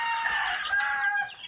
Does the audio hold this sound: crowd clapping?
no